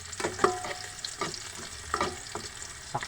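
Mung beans go into a pan of garlic frying to golden brown, giving a soft, steady sizzle broken by several light scraping stirs, close and moderately quiet, with no voices.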